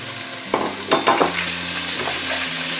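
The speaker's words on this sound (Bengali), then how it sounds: "চিংড়িটা একটু ভাজবো আমি" Large shrimp dropped into a hot pan of lightly fried onion and chili, a steady close sizzle with a few louder stirring scrapes and clatters near the start, frying continuing evenly throughout.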